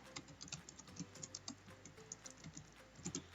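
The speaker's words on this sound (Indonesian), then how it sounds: "teman-teman tinggal ketikkan saja di sini apa yang mau teman-teman cari gitu" Keys clatter on a computer keyboard as a search is typed, a quiet, fairly even run of close keystrokes with no talking.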